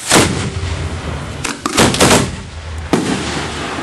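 Ground-level fireworks fired off in Simsbury, Connecticut: loud booming launches and bursts in quick succession, one after another with crackling tails, heard up close outdoors.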